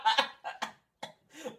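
A person coughs several times in quick succession, close and fairly quiet, with short pauses between the coughs.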